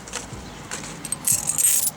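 Old coins, including lira and kuruş pieces recovered from a ruined house, jingle and clink in a hand, with bright metallic rattles in short bursts growing busier toward the end.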